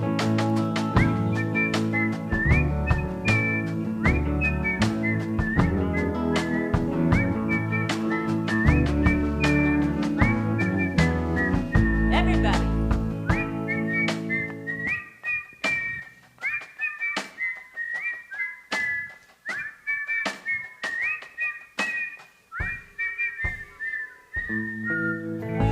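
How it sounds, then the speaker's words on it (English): A live string band concert crowd whistling a tune together, bright sustained melodic whistles over plucked strings, later thinning to a sparser whistle with rhythmic picking. "That's a whistling crowd right there."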